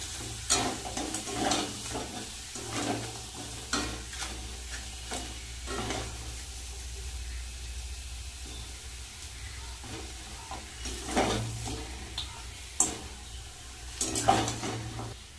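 Crab and potato pieces are sautéed in thick masala in a pan, with a steady low sizzle broken by repeated scraping stirs, some of them sharp and close.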